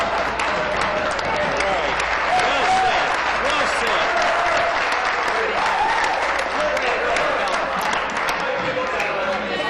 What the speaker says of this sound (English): I even had the Liberal applauding me on that one